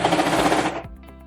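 A serger sewing over the lined-up seams of a dress and trimming excess fabric, giving a loud, rapid mechanical whir that stops abruptly after less than a second.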